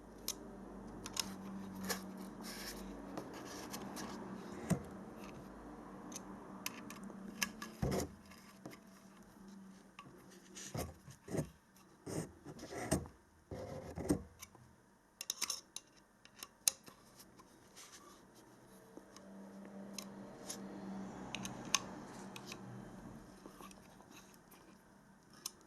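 LiFePO4 battery pack terminal nuts being tightened by hand tool, with small metallic clicks, scrapes and taps coming in irregular bursts close up, busiest in the middle stretch, over a quiet room background.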